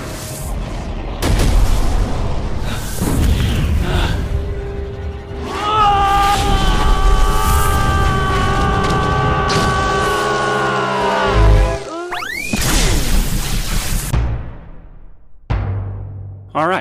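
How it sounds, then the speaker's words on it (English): Sci-fi energy dome explosion effect: a loud boom swells into a sustained, droning electronic shimmer with rising and falling tones, then a sharp burst and a sudden cutoff into near silence. "the sci-fi explosion effect, where a dome of energy flies out of the button and hits the camera"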